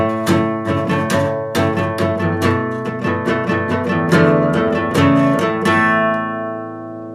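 Guitar slowly strumming the chorus of a song, a run of distinct chords in an even rhythm, close and clear with no talking, the last chord left to ring out.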